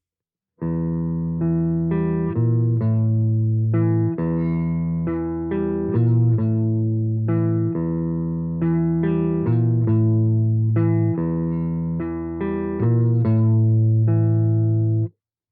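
An electric guitar plays a riff at a slow, even pace, each note clear and sustained, alone with no voices.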